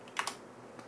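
Computer keyboard keys tapped while entering a value in an ASUS Z97 Sabertooth BIOS screen, a couple of quick close clicks and a fainter final tap.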